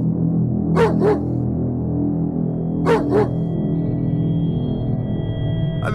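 A dog in the survival game State of Survival barks in two clear double-bark bursts a couple of seconds apart, fairly close, over steady game music with no talk.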